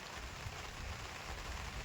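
Steady rain hisses evenly and continuously, a soft, dense wash of sound without any voices.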